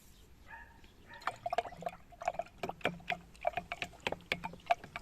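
A liquid solution being stirred with water, with iodine drops added, as plant feed against late blight: a spoon clinks rhythmically against a small jar in quick, repeated ticks, close and clear, with no talk.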